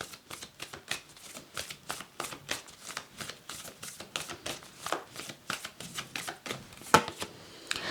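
Tarot cards shuffled by hand during a reading, a steady run of crisp riffling and slapping bursts repeating every half second or so, close and fairly loud.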